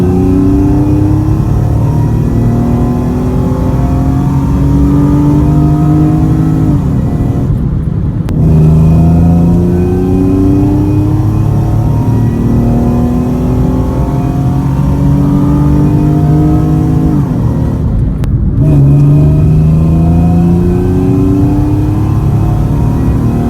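Mercedes C32 AMG with a 63mm supercharger pulley accelerating hard through the gears, loud rising engine and supercharger whine in two back-to-back pulls with brief gaps at the shifts.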